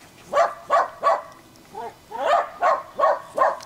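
A Bac Ha bobtail dog barks in a close, loud series of about eight sharp barks, evenly spaced with a brief pause in the middle and no speech.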